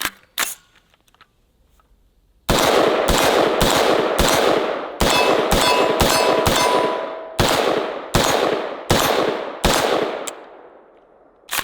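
Mark 18 rifle firing through a magazine, about a dozen loud, sharp shots in a fairly even rhythm, close by and ringing out between rounds, with no talk.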